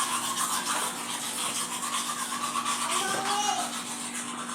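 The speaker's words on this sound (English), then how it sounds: "come brush your teeth" A child scrubs with a toothbrush in a steady, close rubbing bristle noise over a faint background hum, with brief soft voice sounds mixed in.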